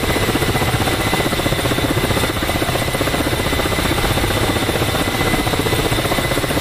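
A KA-50 helicopter in DCS drones with a loud, constant rotor thrum and engine buzz, steady and close throughout with no pauses.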